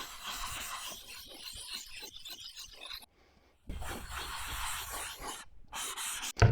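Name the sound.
flattening chisel back on sharpening stone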